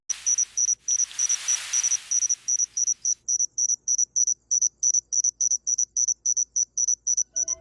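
Crickets chirp in a fast, even pulse of high trills, close and clear, with a brief rushing noise near the start.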